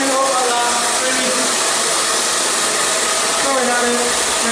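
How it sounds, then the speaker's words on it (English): A hair dryer blows steadily with its nozzle removed, a constant loud rushing whir with a faint motor whine that holds without a break from start to finish. "we're turning the hairdryer on, and we're not putting the nozzle on"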